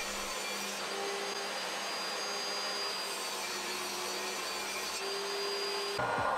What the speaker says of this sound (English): here I'm making the rip cuts for the top, back, front and wrist rest panels